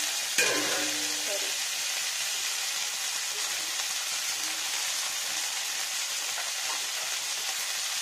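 Washed poni greens tipped into a hot pan of oil and garlic give a sudden burst of loud sizzling that settles into a steady, close, hissing fry with faint stirring, and no talking.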